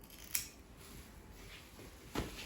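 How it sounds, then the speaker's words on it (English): Scissors snipping two slits into a wet plaster backslab at the ankle, two quiet, crisp snips about two seconds apart against faint room noise. "cut 2 little slits at the ankle"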